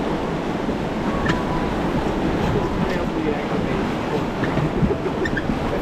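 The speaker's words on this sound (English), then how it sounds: "There is some rapids, I see them." Whitewater rapids at Terror Corner on the Denali river rush in a steady, dense roar, with wind buffeting close to the microphone throughout.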